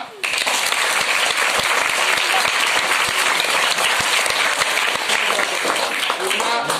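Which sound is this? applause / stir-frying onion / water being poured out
applause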